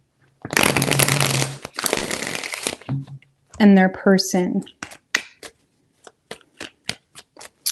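Tarot cards shuffled in three bursts of dense riffling close to the microphone, followed by a few soft card taps and flicks, with a voice speaking briefly in the middle.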